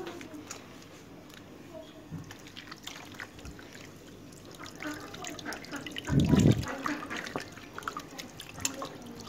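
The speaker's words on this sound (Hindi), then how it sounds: "पानी डालें।" Water splashes over soaped hands after cutting arvi (taro root), with a louder pouring burst partway through, amid soft rubbing and dripping sounds.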